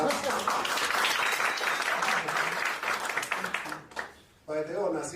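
An audience at a live event bursts into loud, dense applause for several seconds, fading out toward the end before a voice speaks.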